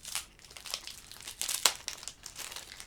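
Crinkling foil of a Pokémon-style trading card booster pack being struggled open by hand, a run of close, irregular crackles and tearing rustles with no talk.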